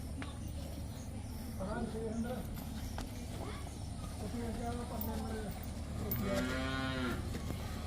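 A cow moos repeatedly at a cattle farm where cows and buffalo are for sale, the calls rising clearly over steady background noise and people talking, with a longer, louder moo near the end.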